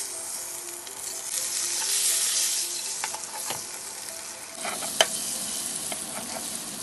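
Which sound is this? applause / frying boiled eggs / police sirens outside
frying boiled eggs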